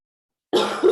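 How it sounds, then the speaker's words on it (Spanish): A woman recovering from COVID coughs twice in quick succession, close and fairly loud, after a moment of silence. "que toso bastante es porque me dio COVID hace 2 semanas y sigo con tos"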